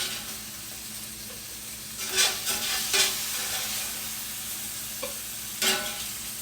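Steak bites searing in a hot pan for carnivore meat prep, a steady close sizzle with a few sharper crackling bursts and stirring scrapes, no talking.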